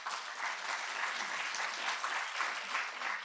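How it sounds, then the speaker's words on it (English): Sustained audience applause in a university hall, dense steady clapping from many hands throughout with no talking over it. "A lot of applause for them."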